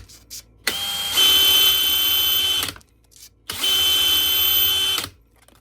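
A power drill boring pin holes at a workbench runs in two sustained, high-pitched whining bursts of about two seconds each, loud and close, with brief quiet gaps between them.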